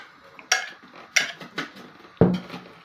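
Egg mixture with grated cheese and herbs being stirred in a bowl: three or four separate clinking scrapes of a utensil against the dish, close and sharp, with short quiet gaps between.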